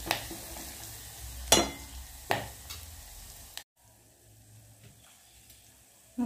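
Curry leaves hit hot oil with mustard seeds and crackle in a loud, busy sizzle with sharp pops, then the frying suddenly drops to a faint, steady hiss.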